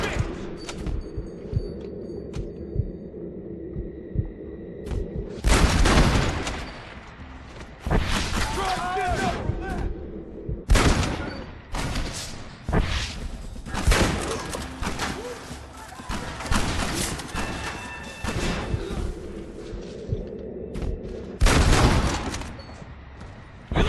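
Heavy gunfire from a cavalry-era shootout with the United States Army in Red Dead Redemption, loud repeated rifle and gun blasts in dense volleys with brief lulls and shouting voices mixed in.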